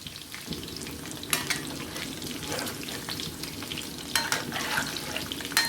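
Chicken pieces frying slowly in hot oil in a home kitchen, a steady close sizzle with soft crackles and brief bursts of spatter, no voices.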